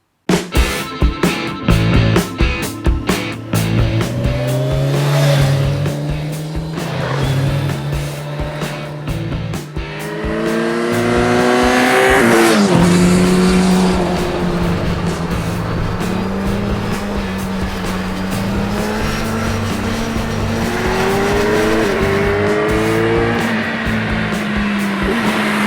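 A 2020 Kawasaki Ninja 1000SX motorcycle is ridden with a loud engine note that rises and falls through gear changes, revving up and shifting repeatedly with a droning tone underneath and wind rush throughout.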